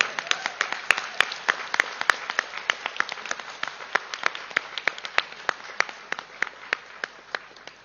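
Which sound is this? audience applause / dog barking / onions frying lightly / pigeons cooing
audience applause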